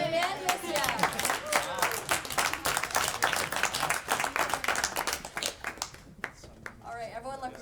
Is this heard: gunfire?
no